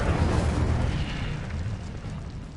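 Incendio fire spell cast in Hogwarts Legacy: a loud, rumbling burst of flame that roars at once and stays dense and heavy for a couple of seconds, easing only slightly toward the end.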